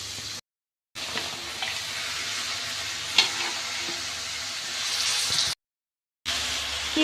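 Onions sauté in a pan for an eggplant curry and greens stir-fry, giving a steady close sizzle with occasional stirring scrapes, broken by two short moments of total silence.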